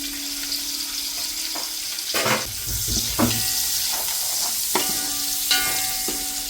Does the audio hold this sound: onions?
yes